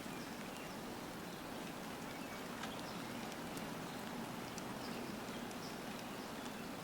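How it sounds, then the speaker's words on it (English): Light rain falls steadily outdoors in a suburban garden where potatoes are being planted in grow bags, a soft continuous hiss with scattered drop ticks and no talk. "And it's raining today."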